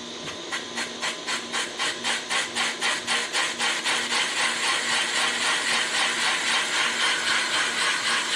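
A Van Norman 777 boring bar starts up and runs, its motor building into a steady, rhythmic pulsing whir that settles into a continuous close mechanical drone.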